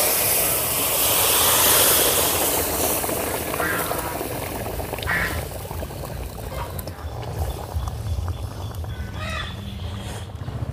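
Potato and fish curry goes into a hot pan of oil with fried cumin and bay leaves, setting off a loud, dense, steady sizzle that slowly eases but keeps crackling throughout, close and unbroken.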